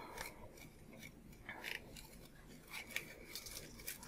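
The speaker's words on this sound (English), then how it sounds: "I cut the templates just from paper and using paper and scissors" Scissors snip through paper while cutting out paper flower templates, a series of close, crisp cuts with short pauses between strokes.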